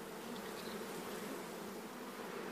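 Africanized bees swarm around hives in the desert near Tucson, Arizona, giving a dense, steady buzz that fills the whole stretch at moderate distance, with no talking.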